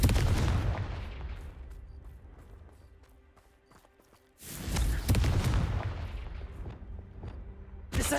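Spell explosions from the Hogwarts Legacy video game, including Expelliarmus and Confringo, crack and boom in loud bursts with rumbling decay, a heavy blast near the start and another around the middle, with no talk.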